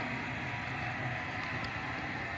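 A Sydney Trains Flemington-depot set at Harris Park station, heard as a steady, loud broadband rumble and roar of the train running through, continuous and alone without voices.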